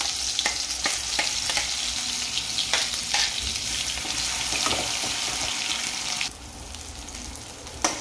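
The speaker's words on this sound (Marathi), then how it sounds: "तर हा मसाला मस्तपैकी आता याच्यामध्ये परतून घेणार आहे" Ground masala paste fries in hot oil in a kadhai with a loud, continuous sizzle and frequent scraping stirs of a spoon. The sizzle drops sharply and gets quieter toward the end.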